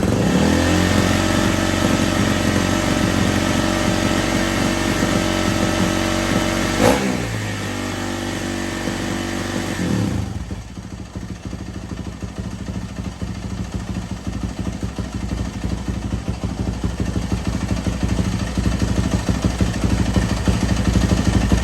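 A Yamaha YZ450F dirt bike engine runs loud and close, revving and then settling into a rougher, lower idle with a steady pulsing throb.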